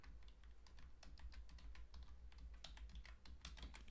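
Someone types a domain name on a computer keyboard, producing quick, steady key clicks that run for the whole stretch. The clicking is close but quiet over a low hum, with no talking.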